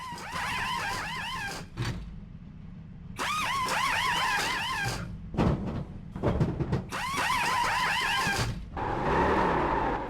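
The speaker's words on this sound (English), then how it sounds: "a pit crew finally servicing the car" A pit crew services a race car in the iRacing sim: three long stretches of rising, whirring, tool-like bursts over a steady low engine hum, with brief clunks and rattles in between.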